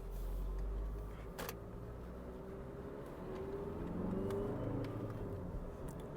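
A used car pulls hard under acceleration on a test drive, its engine a steady, fairly loud drone from inside the cabin that rises slightly in strength, with a brief sharp knock near the start and no one talking.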